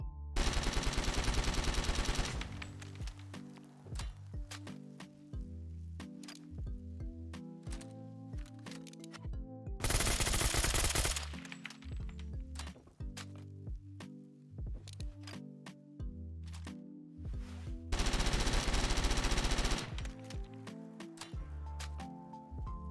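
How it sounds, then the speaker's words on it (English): Weapon reload sounds from a modded Fallout 4 video game, with repeated mechanical clicks and clacks in rhythmic sequences, broken by three loud bursts of automatic gunfire. "these all also have their own reload animations, so I'll get to those right now"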